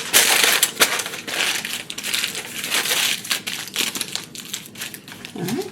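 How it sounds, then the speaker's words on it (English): Aluminium foil being rolled tightly around food, crackling and crinkling loudly and continuously at close range, with no talk over it. "we'll roll them in some foil"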